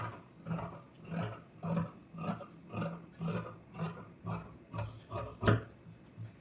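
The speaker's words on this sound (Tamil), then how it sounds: "அந்த பிசில் நான் வெட்டி எடுத்துறேன்" Scissors cutting through blouse fabric, a regular series of about ten close, rasping snips repeating roughly every half second, heard alone without talk.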